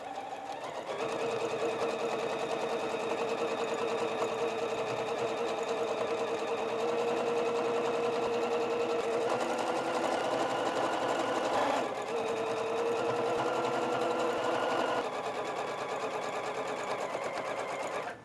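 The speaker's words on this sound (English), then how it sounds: "let's go ahead and sew this border on" A sewing machine runs steadily for about eighteen seconds, stitching a border onto a pinwheel sampler quilt, with a brief pause near the twelve-second mark before the whirring motor resumes at an even pace.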